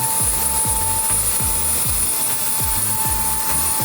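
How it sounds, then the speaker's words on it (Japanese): A cordless blower blasts water off a car's front grill, a loud steady whooshing airflow broken by a rapid repeating pulsing flutter, close by and with no talk. "じゃあそれを踏まえて次に一番大事なグリルの水飛ばしを実際にやってみます。"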